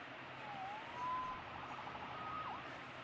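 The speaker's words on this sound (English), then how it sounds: "Saved by the siren." Police siren wailing in Marvel's Spider-Man Remastered, a thin rising and falling tone held over a steady city-traffic bed for about three seconds, moderately distant.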